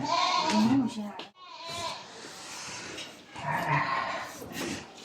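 A goat bleats loudly and close by, with two drawn-out, wavering cries a few seconds apart, heard through ongoing indoor sound.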